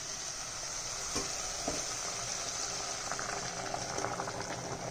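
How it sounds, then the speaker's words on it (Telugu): Continuous bubbling and hissing of water boiling in a pot for mutton biryani, steady and moderately quiet throughout, with occasional soft pops. "వాటర్ మరుగుతున్నాయి కదా"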